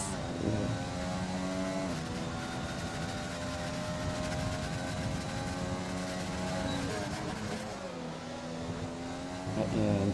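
Racing-car engines roar loudly and continuously during a simulated race on an Australian track in a video game, with gear changes and revs rising and falling, sustained throughout with no clear speech.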